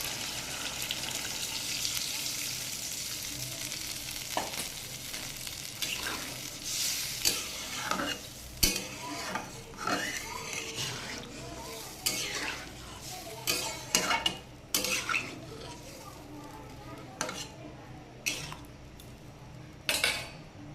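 Hilsa fish curry with eggplant and potato sizzles softly in a pan as liquid goes in, with repeated clinks and scrapes of a spoon against the pot scattered throughout and a faint watery bubbling underneath.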